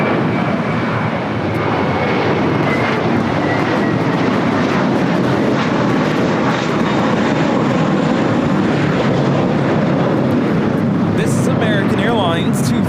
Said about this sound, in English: Airlines 238 taking off to JFK on the A321.